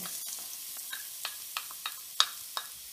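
Onion sautéing in about a tablespoon of melted coconut oil in a pot, a quiet steady sizzle broken by a series of soft, evenly spaced clicks of a utensil stirring.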